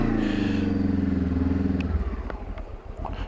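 Motorcycle fitted with a Magura hydraulic clutch turning at low speed, its engine note steady and close before dropping off partway through, leaving clattery mechanical noise and wind.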